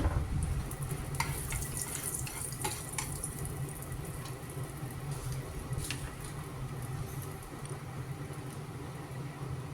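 Bay leaves and whole garam masala spices frying in hot oil left over from frying turmeric-and-salt-coated eggs, a steady broadband sizzle with light crackles running throughout, fairly close and alone without talk.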